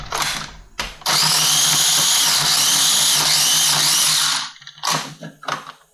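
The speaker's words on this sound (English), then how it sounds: "So I'm going to put it into like a little grinder." A small electric grinder whirs steadily for about three seconds while chopping garlic cloves in a home kitchen, loud and close, with brief clicks and handling noises before and after.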